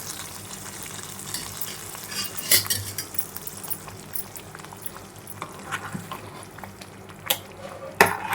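A spoon stirs jaggery rice pudding with fried raisins in a pot after the stove is switched off. Soft, wet scraping and low bubbling run under occasional sharp metallic clinks against the pan, quiet and close.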